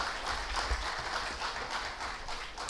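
At a UTI Mutual Fund event at IIFT Delhi, an audience welcomes a speaker with applause, heard as a soft, distant, continuous patter of clapping over a low rumble.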